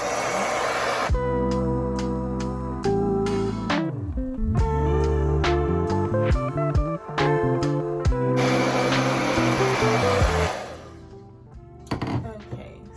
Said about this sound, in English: I'm gonna blow dry it on high and on warm.